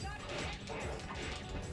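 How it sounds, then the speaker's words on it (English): A dog barks in the PS2 video game Shinobi, a few yips mixed into dense, continuous game music and action effects at moderate level, with no voices. "It's just one freaking dog."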